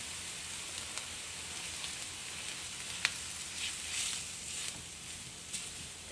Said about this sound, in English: I'm going to make a little roux here.